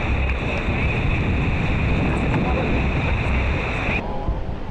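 Ocean surf rolls at Piha beach, a steady loud wash of breaking waves and wind buffeting the microphone, with a high engine-like whine running through most of the stretch.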